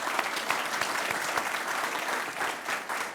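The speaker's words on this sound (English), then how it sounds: "if you'd join me in a round of applause for those groups" An audience at a school district event applauds in a dense, steady burst of clapping that stays loud and even throughout.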